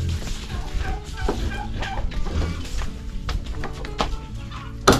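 Chickens raised for slaughter on a Filipino farm, clucking and squawking in a dense, continuous flock chatter close by, with scattered bumps and one sharper knock near the end.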